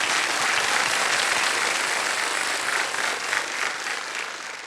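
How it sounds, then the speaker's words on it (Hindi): Applause from a studio audience on a televised quiz show, a dense, sustained wash of clapping that holds steady and then tapers slightly toward the end. "एक बार तालियां बज जाए उनके"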